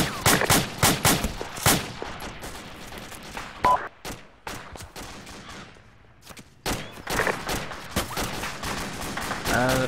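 Gunfire in the Arma military game with the ACRE radio mod: repeated sharp rifle shots and rapid bursts, some close and some more distant, with voices talking over parts of it and a brief quiet gap in the middle.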